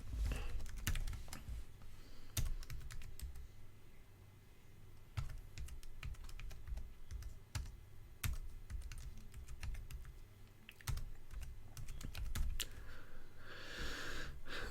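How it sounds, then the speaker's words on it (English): Typing on a computer keyboard, with a steady run of quiet close key clicks and occasional heavier taps over a low hum, no voices. "we need to now type in the following command"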